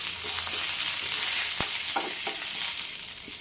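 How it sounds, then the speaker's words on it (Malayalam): Curry leaves crackling in hot oil for potato thoran, a loud, dense sizzle close by, broken by a sharp pop and a few spattering crackles before easing slightly. "നമുക്ക് ആവശ്യത്തിനുള്ള കറിവേപ്പില ഇട്ട് കൊടുക്കാം."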